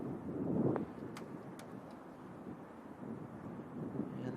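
Wind gusting hard across a golf course during the 2020 U.S. Amateur rumbles steadily into the microphone, swelling early and again near the end, with a few faint ticks over the low roar.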